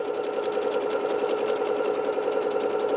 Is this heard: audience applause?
no